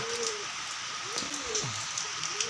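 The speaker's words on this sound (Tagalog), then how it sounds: "Kaya lang umuulan." Steady afternoon rain patters and hisses evenly throughout, with soft cooing pigeons faintly underneath.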